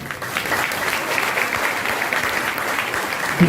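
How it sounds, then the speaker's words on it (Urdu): A church congregation claps together during an Urdu/Hindi homily on the Resurrection, a steady dense patter of many hands lasting a few seconds, fairly close and even. "ہم تالیاں بجائیں گے."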